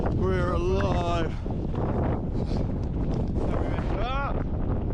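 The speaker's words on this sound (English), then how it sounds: "It's rainy, it's windy" Gusty wind buffets the microphone on a rainy Lake District hillside, a steady roaring rush throughout, with voices talking loudly over it.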